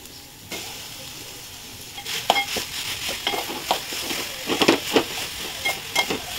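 Grated coconut and jaggery being stirred in ghee, soft sizzling under repeated scraping and clinking strokes of a spoon against the pan, growing busier as the stirring goes on.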